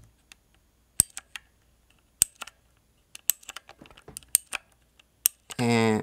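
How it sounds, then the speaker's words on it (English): Sharp, isolated key clicks from a Cherry MX Blue mechanical keyboard, a Filco Ninja Majestouch-2, held close to the mic, irregular single and clustered taps against near silence, ending with a brief voice. "You don't even have to press it all the way down and you get the click."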